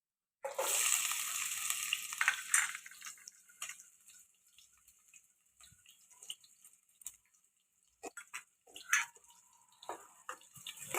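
Chopped onion hits hot oil with cumin in a kadhai for a Marathi matki bhaji, giving a loud, hissing sizzle for a couple of seconds. The sizzle then dies to a faint crackle, broken by occasional stirring taps.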